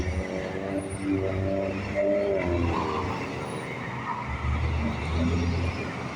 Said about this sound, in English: All these loud vehicles he's here down here backfiring. You can hear them from blocks and miles away.